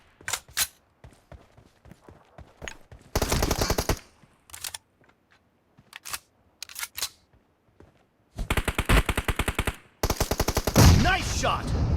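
Gunfire in a PUBG team deathmatch, with rapid bursts of automatic fire and scattered single shots separated by short, quieter gaps. The shots are loud and close and sound alone, without talk.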